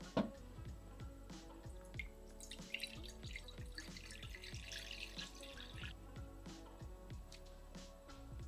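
Distilled water dripping for wet molding leather, a quiet series of distinct plinks and splashes falling in an irregular rhythm, close by and alone.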